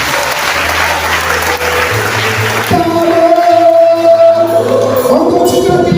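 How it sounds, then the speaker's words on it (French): Applause from a congregation at a prayer meeting comes as a dense, loud wash of clapping that runs steadily throughout, with a sustained tone and voices mixed in underneath. "Donne-nous les acclamations."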